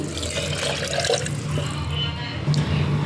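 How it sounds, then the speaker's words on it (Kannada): Water is poured into a cooking pot of masala avarekalu sambar over cooked spices, making a steady, close splashing stream that runs for the whole few seconds. "ಇದಕ್ಕೆ ನಾನು ಸಾಂಬಾರಿಗೆ ಎಷ್ಟು ಬೇಕೋ ಅಷ್ಟು ನೀರು ಹಾಕ್ಕೋತೀನಿ"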